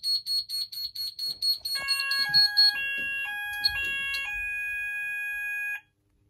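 A Syncro AS 2-loop addressable fire panel's alarm sounder wails in a loud, steady stepped tone alternating between two pitches, following a short burst of rapid high pre-alarm beeps.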